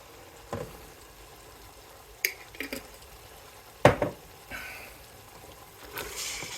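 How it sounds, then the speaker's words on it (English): Goulash sauce being stirred in a pot, a few scattered spoon scrapes and clinks against the pot with a louder clank midway, over a quiet background simmer, close and intermittent. "I'll stir this up."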